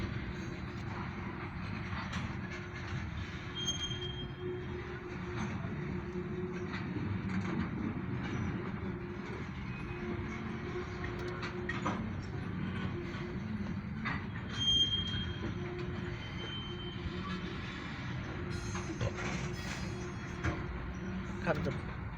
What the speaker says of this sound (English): We have an OC&T grain hopper train heading south.